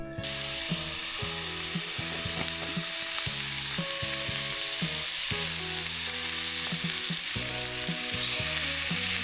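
Bacon frying in a small pan at a campsite makes a loud, dense, continuous sizzle up close, while a faint, steady, low tonal hum runs underneath.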